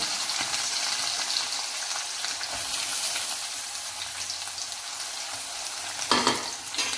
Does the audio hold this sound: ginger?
yes